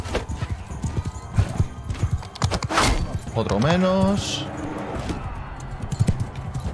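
Horse hooves and galloping in the Mount and Blade 2 Bannerlord video game, a steady clip-clop mixed with a brief whinny and clashing game noise, with someone talking over it.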